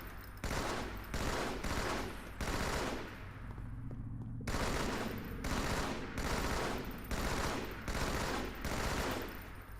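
Rapid repeated gunfire from Halo 2 doubleshots in the video game, dense bursts of shots in steady rhythm with one short gap, loud and continuous.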